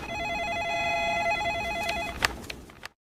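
A telephone rings in another room of a house, a warbling electronic bell sounding steadily for about two seconds, then a few clicks and knocks before it cuts off.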